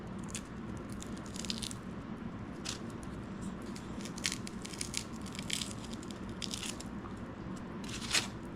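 A dog chews and crunches its food up close, with steady wet biting and crackling over a low constant background hum and occasional louder crunches.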